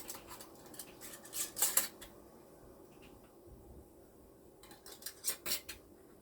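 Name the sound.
screwing metal bands onto gravy canning jars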